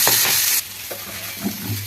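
Onion frying and being stirred in a hot pan in a home kitchen, a loud steady sizzle for the first half-second settling into softer crackling with occasional scraping stirs, close and alone without talk.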